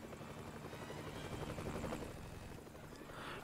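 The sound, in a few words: helicopter in the video game Family Guy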